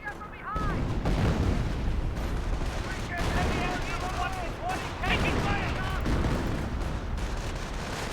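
Machine-gun fire from an M2 in Company of Heroes, a sustained, dense battlefield din of rapid shots and explosions layered over one another at steady loudness, with voices faintly mixed in.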